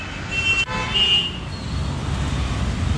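Heavy road traffic in Delhi, a steady roar of engines close by with short car horn toots near the start and a brief dropout partway through.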